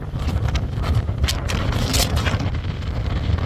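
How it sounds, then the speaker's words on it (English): Strong wind roars across the open high plains of Wyoming, a constant loud buffeting rush with gusty swells battering the microphone, no voices over it. "It's so windy."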